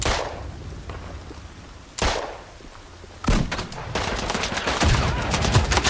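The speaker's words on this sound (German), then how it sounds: "ich schieß dreimal auf ihn drauf und dreimal passiert nichts" Gunfire in the World War I shooter Isonzo: sharp loud shots, one near two seconds, then a rapid cluster of cracks and echoing bursts building toward the end, close and without talk.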